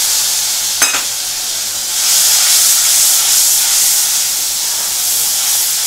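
Loud, steady sizzling hiss of water hitting frying masala and tomato in a hot pan, with a brief sharp crackle near the start, then a continuous broad steamy sizzle throughout.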